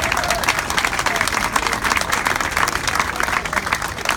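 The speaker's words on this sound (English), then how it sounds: "Go ahead, you can applaud that" An audience breaks into sustained applause at a church talk about Frederick Douglass, a dense even clatter of many hands clapping throughout, moderately loud and filling the room with no speech on top.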